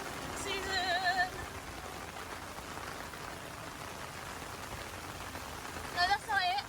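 Monsoon rain pouring steadily in Pattaya, Thailand, a dense even patter on surfaces all around, with a few short voices and whistling sounds cutting in briefly near the start and end.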